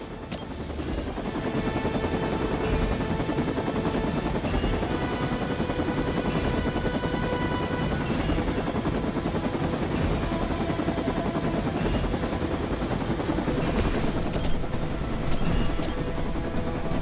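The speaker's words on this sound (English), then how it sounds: "The helicopter is about to leave." Helicopter from the video game Marvel's Midnight Suns, a steady loud rotor and engine drone holding for the whole stretch, layered with dense game sound and music-like tones, no voices.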